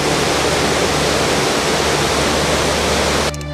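The Humla Karnali River rushes past in a loud, dense, steady roar of fast-flowing water, heard up close with no voices, ending abruptly near the close.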